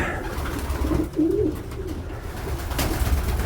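Male pigeons coo steadily inside a pigeon loft, their low rolling calls repeating close by over a constant background hum, with no talking.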